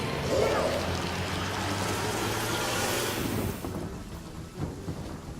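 Rain and thunder from a storm spell in the video game Divinity: Original Sin, a loud steady wash of rain with a low rumble that fades after a few seconds and ends with a brief thump.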